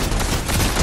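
A dense, continuous burst of Fortnite gunfire fills the whole short moment, loud and close, with rapid overlapping shots.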